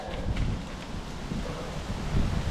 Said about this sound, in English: the wind is ripping in the top of this red oak, and the ground is moving